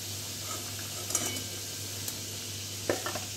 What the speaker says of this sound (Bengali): নাগেটসগুলো পুরো ভাজা হয়ে গিয়েছে, এবার আমি ছুলে নিচ্ছি।